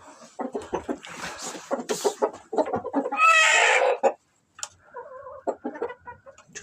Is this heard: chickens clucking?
yes